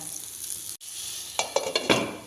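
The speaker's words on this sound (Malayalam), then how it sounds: "എണ്ണ ചൂടായിട്ട് നമുക്ക് മീൻ വെച്ചെടുക്കാം" Fish sizzling in hot coconut oil in a pan for meen pollichathu, a steady close frying hiss broken by a brief drop-out, then several sharp crackling bursts as the pieces spit and pop.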